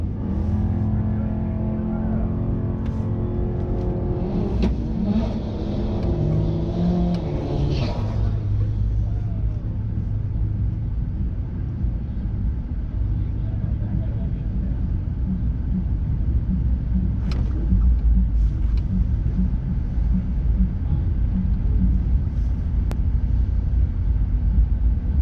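A drag racing car at a Street Wars event idles with a deep rumble, then launches and accelerates hard down the strip, its roaring engine staying loud and close throughout.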